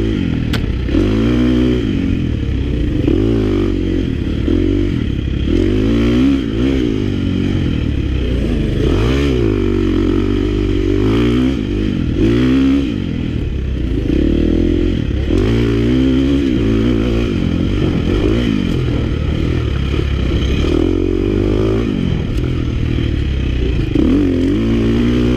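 A Yamaha YZ250X two-stroke dirt bike ridden hard over rocky terrain, its engine revving up and down in rapid surges, close and loud throughout, with clattering from the ground.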